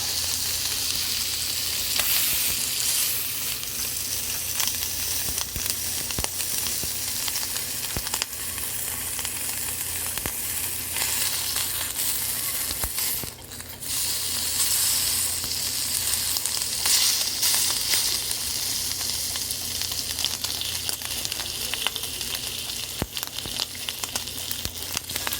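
Smoked bacon sizzles and crackles steadily in a hot pan, a dense continuous fry hiss held close and loud throughout with brief surges of spitting and no voices.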